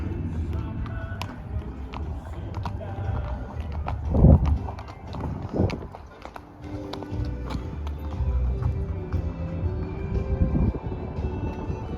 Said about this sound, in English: This is where we rode the horses to.